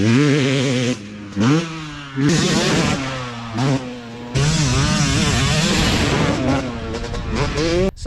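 Yamaha YZ250 two-stroke motocross bike ridden by a racer, the engine loud and close as it revs, drops off and climbs again in repeated bursts with a raspy, buzzing tone.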